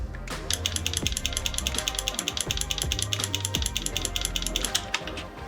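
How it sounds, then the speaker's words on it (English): The trigger of an Arcturus AK-12 clicks repeatedly up close, giving a quick, fairly even series of sharp mechanical clicks and rattles that continues throughout. "That is a nice clicky trigger."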